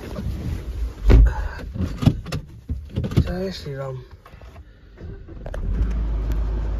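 A car door thumps shut and a motor whirs briefly, then the vehicle's engine rumbles low and steady as it pulls away, with someone speaking briefly in between.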